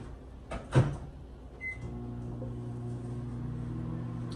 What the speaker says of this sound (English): Back in the microwave for an additional 30 seconds.